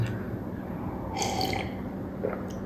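Water pouring into a drinking glass indoors, a short filling burst midway through the clip over a steady low background hum, with a faint drip near the end.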